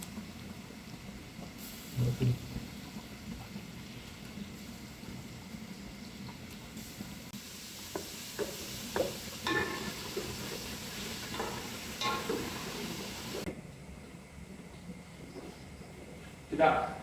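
Onions soften in a pot with cinnamon and salt, a low continuous sizzle with occasional stirring scrapes, fairly quiet throughout.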